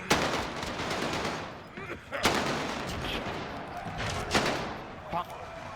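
Gunfire in the Warzone battle royale video game, dense and continuous with rapid overlapping shots and a few louder bursts, filling the whole stretch.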